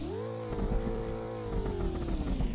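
A car engine revs up and holds a high, droning tone, then eases back, with rapid crackles riding over it; loud and close, with no talking.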